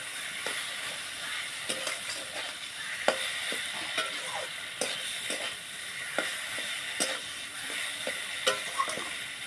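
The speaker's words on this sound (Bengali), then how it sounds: "পেঁয়াজগুলো লাল লাল করে ভাজা হয়ে যাওয়ার পরে এটা দিয়ে দিলাম" Chopped onions and kulta greens sizzle steadily in a pan, with a soft continuous hiss broken by regular scraping taps of a spatula stirring them, close and fairly quiet.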